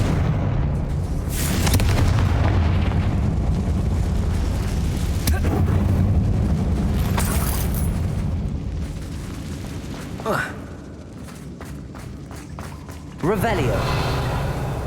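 Confringo fire spell from the Hogwarts Legacy video game blasting on PC, a loud booming explosion with crackling bursts over a rumbling game score, followed by a quieter stretch and another heavy hit near the end.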